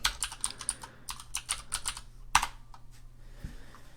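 Keys clatter on a computer keyboard in a steady run of quick taps, then one sharp keystroke and a few slower presses while an object name is typed into 3D modeling software; close and clear over a faint low hum.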